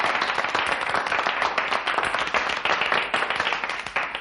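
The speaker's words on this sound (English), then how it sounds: "Gentlemen, thank you for your generous applause." Generous applause from a gathering of gentlemen in a radio drama, a steady dense wash of many hands clapping close and loud throughout, with no talk over it.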